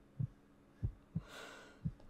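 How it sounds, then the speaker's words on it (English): Heartbeat in the horror video game 123 Slaughter Me Street: four low, muffled thumps at uneven spacing, close and soft, with a brief airy swell between them. "got a little bit of a heartbeat going on there"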